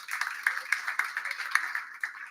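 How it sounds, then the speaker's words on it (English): Applause from a pub audience at a talk, brief close clapping with distinct individual claps in a quick uneven rhythm from a small crowd. "A round of applause for Richard, please."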